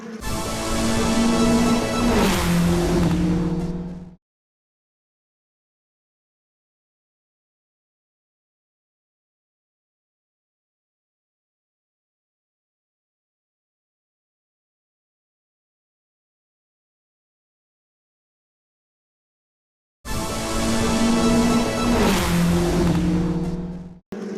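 Race cars in the 2019 W Series race at Hockenheim, Germany, scream past in two loud bursts of engine noise a few seconds long, separated by a long stretch of silence.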